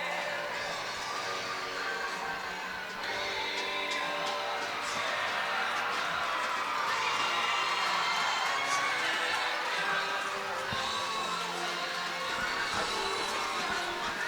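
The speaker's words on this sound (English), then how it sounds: "what a great crowd on a Thursday night here in Fredericton" A university hockey crowd in a Fredericton arena cheers and murmurs steadily through a Thursday-night AUS finals game, with the broad roar swelling and fading and a commentator talking over it.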